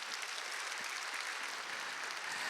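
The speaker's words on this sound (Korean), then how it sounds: "우리 동산의 가족이 되신 분들께 다시 한번 큰 박수로 환영하도록 하겠습니다" A church congregation at a Sunday morning service claps in steady, dense applause to welcome new members, a continuous wash of many hands filling the whole stretch without a break.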